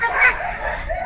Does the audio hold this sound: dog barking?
yes